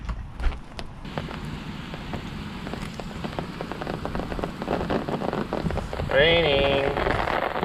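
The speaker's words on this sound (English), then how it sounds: "Raining. Starting to rain." Rain begins falling on a residential street, a steady patter on surfaces that grows denser, with scattered drops and some faint distant background noise.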